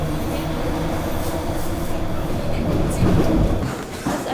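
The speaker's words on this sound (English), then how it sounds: "And I just missed the sky train." A sky train rumbles out of a station, a loud, close, continuous roll of wheels and carriage noise that swells slightly and then eases, with faint squeals and clatter on top.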